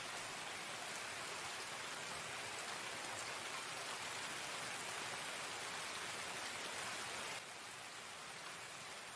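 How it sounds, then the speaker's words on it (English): Steady, dense rain from Escape from Tarkov on the Interchange map at night hisses continuously and loudly with no voices, easing slightly in the last couple of seconds. "And the rain just picked up."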